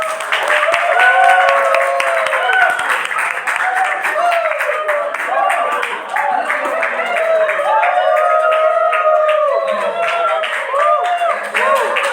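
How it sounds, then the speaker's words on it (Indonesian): A class applauds group 4 during a photography lesson, a dense, continuous round of clapping close by, with voices and chatter audible underneath. "Mungkin tepuk tangan dulu deh untuk kelompok 4"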